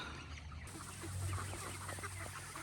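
Chickens cluck softly over a steady low hum, with a few brief calls scattered through the background.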